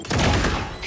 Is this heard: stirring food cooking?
no